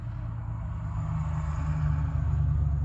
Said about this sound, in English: I'm sorry for all this noise in the background. The car's going up and down